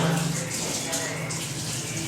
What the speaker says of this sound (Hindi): इसको धो लेते हैं।